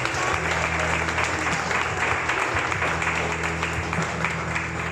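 A church congregation claps together during a Spanish-language service, dense and fairly loud with a low hum underneath and voices faintly mixed in, holding steady throughout.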